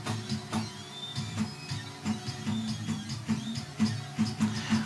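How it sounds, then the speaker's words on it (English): An AxiDraw pen plotter fitted with a brushless servo upgrade runs at low volume, giving a steady mechanical hum broken by short, repeated servo and carriage movements in a rhythmic pattern. "the new pen plotter servo is working in the background"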